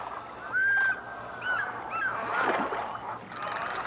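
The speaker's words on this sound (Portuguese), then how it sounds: "Garças, garçotas, cormorões e outras aves são atraídas pela agitação." Herons, egrets, cormorants and other water birds gather at drying floodplain waters, giving loud honking calls in separate bursts over a low background hum, with no talking.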